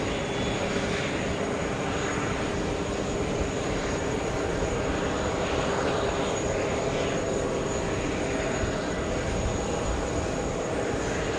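A jet airliner passes at JFK airport, a steady broad engine roar held at constant loudness throughout, with no talking.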